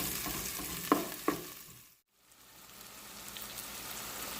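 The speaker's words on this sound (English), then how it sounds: "in the ground beef, get it going. Ooh, y'all see that sizzle?" Ground beef sizzles in a pan as it is broken up, with two crisp spatula taps early on over a steady hiss. The sound briefly dips almost to silence, then the frying swells back.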